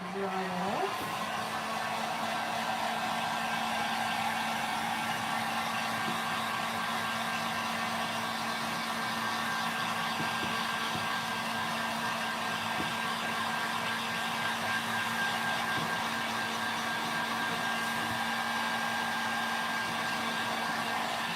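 A hair dryer blows steadily up close to dry metallic paste, a continuous even whooshing hum with a constant motor whine that barely changes over the whole stretch.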